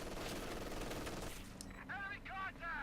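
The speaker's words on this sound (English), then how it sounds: "MG42 setting on up, good call." MG42 machine gun fire in the Company of Heroes strategy game: a dense, rapid rattling burst of automatic shots, cutting out partway through, followed by softer game sounds.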